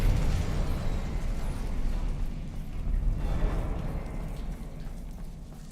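Incendio fire spell cast in the Hogwarts Legacy video game, heard as a loud, sustained roaring, crackling burst of flame with rumbling low end that swells and fades over several seconds.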